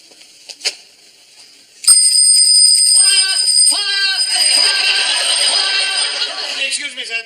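A bicycle bell rings in a bright metallic trill that runs for several seconds, loud and close, after a couple of short knocks. It sounds like a sitcom scene in a department store during a fire practice.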